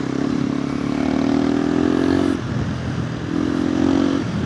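KTM 390 Adventure R single-cylinder motorcycle fitted with a Norifumi Whoops exhaust, a loud close engine drone holding steady revs, dipping briefly off throttle, then pulling up again.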